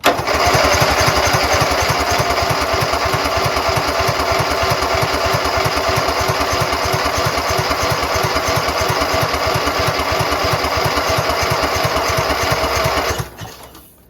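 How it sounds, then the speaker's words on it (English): Craftsman lawn mower engine cranking on its starter in a steady fast chugging rhythm, loud and close for about thirteen seconds before cutting off abruptly, with no voice over it. "Let's crank it some more."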